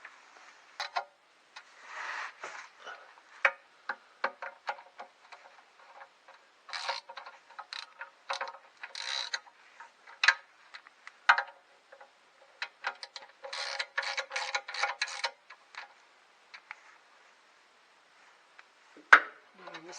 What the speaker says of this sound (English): I'm going to come back with the smallest ratchet